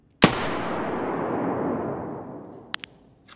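A single heavy gunshot in the shooter game Escape from Tarkov, a sharp loud blast followed by a long rumbling echo that fades over about three seconds, then a couple of light metallic clinks.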